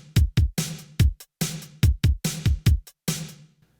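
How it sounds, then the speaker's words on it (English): Linn drum machine beat in Logic Pro for an 80s-style song, punchy dry kick and snare hits in a tight repeating pattern with short gaps, close and moderately loud, no voices. "So we're using Linn drum, and it sounds like this."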